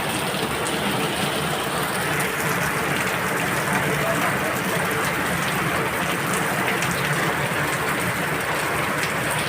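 A long, unbroken monsoon downpour keeps up a loud, even hiss of rain on surfaces nearby, steady throughout with no pauses.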